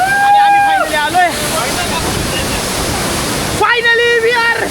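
Kondeshwar waterfall in Kamshet roars during the monsoon as a broad, steady rush of falling water close by, with voices talking loudly at the start and end.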